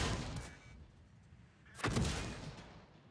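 Two booming shots from a tank cannon firing high-explosive rounds in World of Tanks, one at the start and a louder one near the two-second mark, each fading into a rumbling tail.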